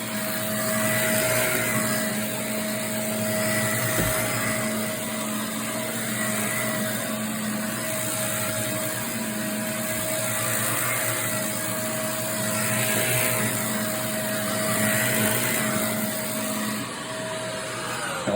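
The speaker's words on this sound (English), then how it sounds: "I'm going to come over with the vacuum, get this up" A vacuum cleaner runs steadily on carpet during water damage cleanup, a loud, even motor drone and airy whoosh with slight swells, ending in a brief dip as it winds down.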